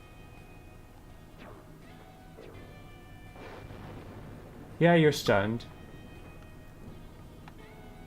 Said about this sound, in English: we're going to have you Lightning Strike the